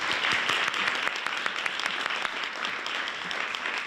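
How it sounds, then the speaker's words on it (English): A conference audience at the Vermont Community Development Association applauds panelists with dense, steady clapping that holds for the whole stretch, loud and continuous with no talking over it. "if folks could give them a round of applause"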